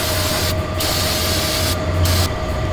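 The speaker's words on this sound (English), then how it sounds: "This might be the first time I use brake cleaner actually to clean brakes." Brake cleaner hisses loudly from an aerosol can onto the brakes of an old 1961 wagon, a continuous close spray with a few short pauses between bursts.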